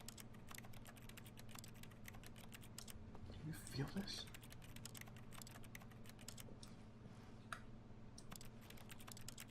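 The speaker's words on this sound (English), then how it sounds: "when I touch it, it sounds like I'm clicking on a keyboard" A soft chair being touched produces dense, rapid clicking like typing on a computer keyboard, continuing steadily throughout with a low hum beneath, while a voice speaks briefly near the middle.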